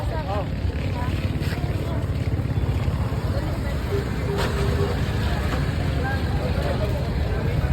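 A pumpboat engine chugs on an island hopping trip around Dinagat Island, a loud, dense, throbbing drone heard up close with indistinct voices mixed in.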